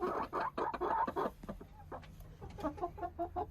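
Chickens clucking in a coop after a heavy snowstorm, a close cluster of quick, choppy clucks at the start, a brief pause, then another run of softer clucks.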